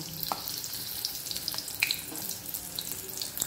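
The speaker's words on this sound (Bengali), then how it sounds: "তেলের ওপর প্রথমে আলুগুলো ভেজে নেব।" Steady sizzling and crackling of potatoes frying in hot oil in a wok, with scattered small pops, close by and fairly quiet.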